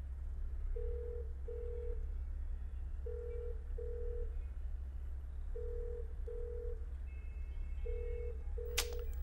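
Pairs of evenly spaced ringback tones repeat on a telephone line, faint and steady over a low hum, ending with a brief click; no one speaks.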